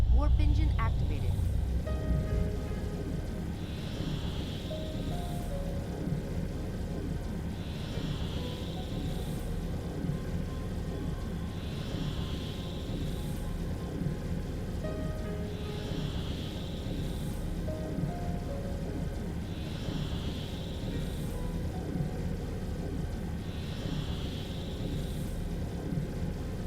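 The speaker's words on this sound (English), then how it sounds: "Warp engine activated." Warp engine of a spacecraft in a space video game, a steady low droning rumble with a soft whooshing pulse recurring every few seconds, continuous and even throughout.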